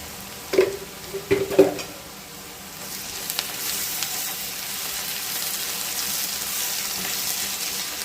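Chili and coriander powder roasting in a pan for egg bhurji: a few sharp stirring scrapes early on, then a steady rising hiss of frying that fills the rest, close up and without voices.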